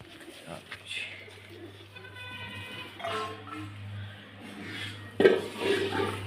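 Soft, low pigeon cooing repeats in the background while people talk nearby, with a louder burst of coos near the end.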